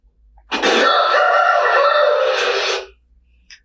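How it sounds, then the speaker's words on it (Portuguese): A rooster crows once, a single loud, close, drawn-out call of about two seconds, heard alone against near silence. "É um galo cantando."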